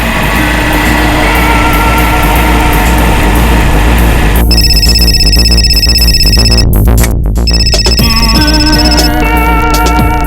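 Telephone ringing late at night, a loud electronic ring tone that starts partway through and repeats in bursts over a steady background hum.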